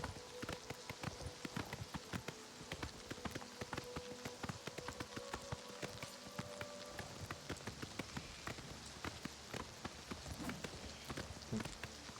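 Horse hooves clip-clop in a video game, a steady run of crisp, evenly spaced beats over a soft, rain-like ambient hiss, with no voices.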